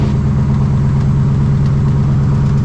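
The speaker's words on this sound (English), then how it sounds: "throttle to idle. Feel that pressure, engine doesn't stop. At 1000 RPM." WW2 Harvard aircraft engine idling at 1000 RPM, a loud, steady low throb with a dense rumbling drone that holds even throughout, no voices over it.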